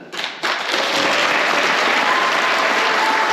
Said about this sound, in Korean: 모든 후보에게 격려와 박수를 부탁드리겠습니다